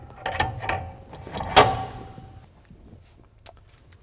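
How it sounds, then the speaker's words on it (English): A brake caliper on a 2017 RAM 2500 rear brake install is slid over metal mounting studs and fastened with a nut and washer, making a few close metallic clicks and scrapes in the first two seconds, then quieter handling. "Slide the caliper over the mounting studs and secure it using the supplied nut and washer."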